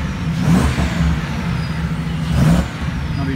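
Supercharged Ford Mustang S197 with MagnaFlow exhaust, a mid-pitched engine rumble with two brief rev swells and a faint whine riding on top, heard close and steady.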